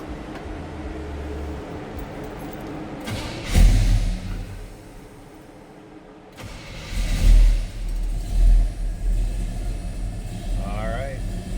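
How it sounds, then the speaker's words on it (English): A 1964 Chevrolet Chevelle Malibu SS big-block V8 idles with a low rumble, then is revved twice in sharp bursts that swell and fall back to idle, close and loud. "There's that big block fired up. See the tack is working. Nice throttle response."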